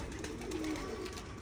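Pigeons or doves coo softly and close at hand in a bird loft, one brief cooing call over steady background noise.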